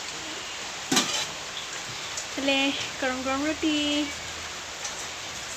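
Rain falls steadily as a soft, even hiss underneath, while a person talks over it in short phrases.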